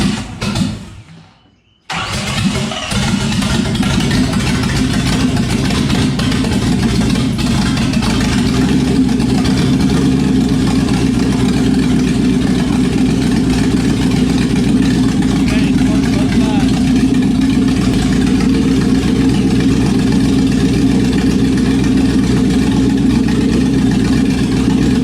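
Jeep CJ7 engine cranking and catching after a brief quiet moment, then settling into a loud, close, steady idle that runs on with a rough low rumble, with voices talking over it.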